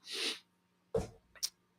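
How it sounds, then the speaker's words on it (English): A single close sneeze with a breathy intake before it, followed by a short snort and sniffle. "That was a sneeze."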